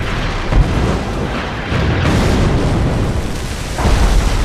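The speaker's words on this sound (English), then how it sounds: "Rodney and King George closed rapidly, firing salvo after salvo." Battleships Rodney and King George V fire heavy naval gun salvos at the Bismarck: a dense, continuous rumble of booms and blasts, loud and sustained, with heavier thuds swelling near the start and end.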